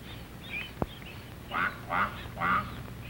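A mother duck quacks to her ducklings in a grassy farmyard meadow, with three hoarse calls in quick succession after a single sharp click, over a steady background hiss.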